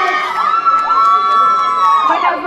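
Loud cheering from the crowd at an outdoor singing contest in Quezaltepeque, a sustained, ringing whoop with a rising and falling pitch that carries above the crowd.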